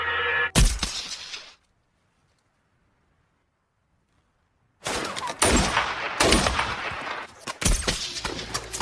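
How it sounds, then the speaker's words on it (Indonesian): Gunfire from a war film battle with Taliban fighters, loud bursts of shots and crashing impacts, a short burst, a few seconds of silence, then several more heavy volleys close up. "Setelah berhasil menembak pengintai tersebut, tiba-tiba muncul para pasukan Taliban yang begitu banyak."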